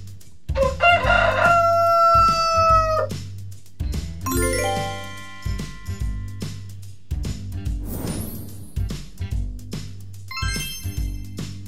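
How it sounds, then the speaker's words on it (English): A rooster gives a long, loud cock-a-doodle-doo, followed by a second crow, over a bouncy rhythmic backing with chimes and jingles. "Rooster."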